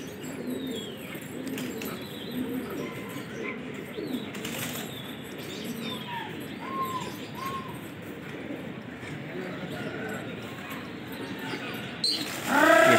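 Pigeons, including Lalban and Ghagre breeds, cooing softly amid rustling and fluttering wings, with occasional chirps; a brief louder burst at the end.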